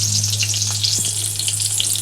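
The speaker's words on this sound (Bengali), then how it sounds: "আর এখানে 4 পিস বেগুন ভাজা বসিয়েছি।" Eggplant pieces and chunks of sweet pumpkin sizzle steadily in hot oil in a pan, a continuous close frying hiss with a low steady hum beneath and no voices.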